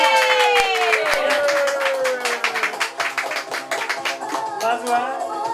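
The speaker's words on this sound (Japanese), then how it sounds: "拍手" Audience clapping at a stage show, scattered rhythmic claps beneath loud, animated voices and a sliding tonal sound, with the claps fairly close and uneven throughout.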